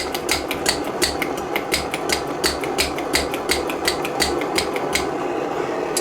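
Rapid, regular clicking strokes of a hand pump pressurizing the fuel bottle of an Optimus multi-fuel backpacking stove run with WD-40, about three strokes per second, close and steady throughout with no talking.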